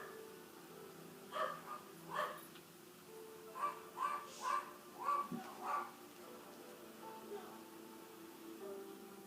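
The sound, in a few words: dogs barking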